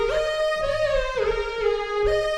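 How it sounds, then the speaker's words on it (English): A bright, buzzy synth lead patch called Rough Strings from Sky Keys plays a few sustained notes with gliding pitch bends, close and alone. "Okay, so I found this really cool lead sound."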